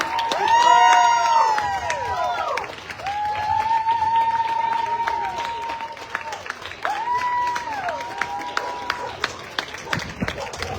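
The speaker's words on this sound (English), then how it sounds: "I think they certainly deserve a round of applause." Crowd clapping and cheering at the Melbourne Royal Show dog ring for the best-of-breed Golden Retrievers on their lap of honour, steady applause under a loud announcer's amplified voice.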